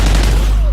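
Shotgun fire in the video game Call of Duty Ghosts: a loud, close blast of gunfire fills the short moment and then quickly thins out, with no talking.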